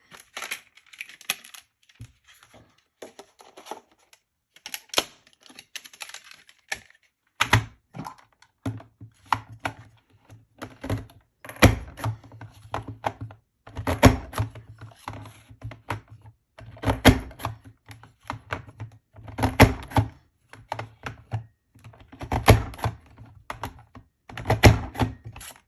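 A paper trimmer slices charcoal-coloured cardstock for a scrapbook page, giving sharp clicks and scraping strokes in uneven bursts, with repeated louder chops, close and alone.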